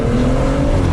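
A BMW M140i fitted with a Quaife limited-slip differential accelerates hard, its engine droning loud and steady with a rising tone and faint tyre noise, heard from inside the car.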